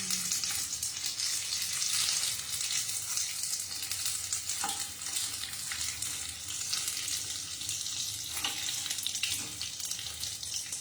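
Paneer pakoras fry in hot oil, a dense, continuous bright sizzle with crackle and occasional spits, heard close up with no voices.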